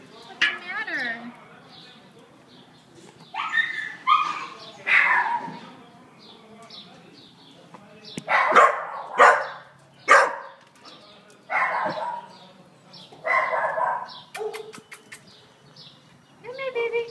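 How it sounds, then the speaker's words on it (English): A small beagle-basset mix dog gives whimpers and short barks in scattered bursts, close by, with a person talking to it softly in between. "We have a little beagle mix, possibly basset."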